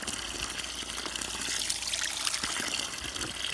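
Fresh mountain water in British Columbia trickles and splashes steadily from a pipe connection, a continuous close-up dribble with no voices.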